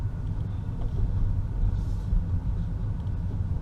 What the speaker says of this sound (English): You hear tire whir at speed, but it's really not bad